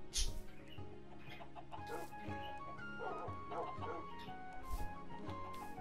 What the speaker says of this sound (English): This is a bunch of dogs.